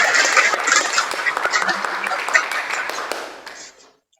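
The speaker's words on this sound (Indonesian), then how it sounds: "Tepuk tangan dulu." Students in an automotive engineering classroom applaud, a dense, bright patter of many hands clapping close by that holds steady before thinning and stopping.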